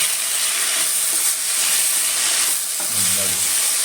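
Sprouted horse gram tipped into hot oil with grated coconut, frying with a loud, steady sizzle and hiss that swells briefly near the end, with no one speaking.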